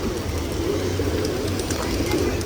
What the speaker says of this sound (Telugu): ఎన్ని పావురాలు చూడడానికి భలే ఉంది